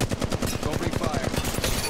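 Rapid automatic gunfire in the mobile shooter Apex Legends Mobile, a fast, even burst of loud close shots lasting about two seconds.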